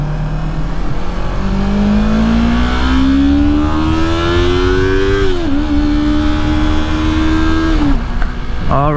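A Yamaha R3 motorcycle fitted with an R6 throttle pulls away, its engine revving up close and loud through rising gear pulls, dropping briefly at each shift before climbing again.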